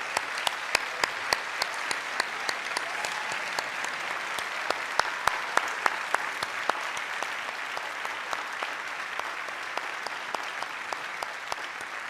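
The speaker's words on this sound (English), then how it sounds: "Give them a round of applause." At a University of York honorary degree ceremony, the audience gives sustained applause for the sabbatical officers and student representatives, a steady, fairly distant patter of many hands with scattered sharper claps standing out, gradually thinning toward the end.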